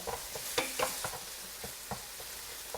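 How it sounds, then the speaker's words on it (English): Chopped hamburger meat browning in a pan, with a soft continuous sizzle broken by scattered scraping and stirring clicks from a utensil, close by. "So I got the hamburger chopped up and starting to brown a little bit here"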